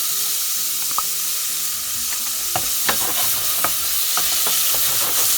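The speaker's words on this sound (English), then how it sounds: "I'm going to fry the onion." An onion sautés in a tablespoon of butter for courgette soup, with a loud steady hiss and scattered crisp pops and taps of a utensil stirring in the pan.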